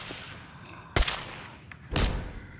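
Gunfire in a video game: two loud, sharp shots about a second apart, each with a short decaying tail, over a low background.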